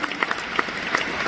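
A short burst of audience applause at a talk on wealth and local development in Cameroon, with dense clapping and a few sharper individual claps standing out.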